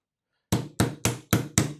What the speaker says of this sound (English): Just hammering it in the middle here of this gas tube.